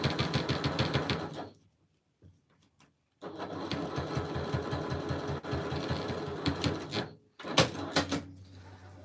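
Sewing machine stitching down a bag strap, its rapid needle chatter running in two long bursts with a short pause between, then a final brief burst; close and steady throughout.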